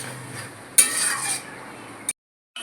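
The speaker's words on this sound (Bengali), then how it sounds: "তার জন্য আমাদের ঢাকনাটা তুলে মাঝে মাঝে মাংসটা নেড়ে দিতে হবে" A spoon scrapes and stirs mutton curry in a wok after the lid is lifted, a brief rough burst of stirring followed by a soft clink, then a sudden silence.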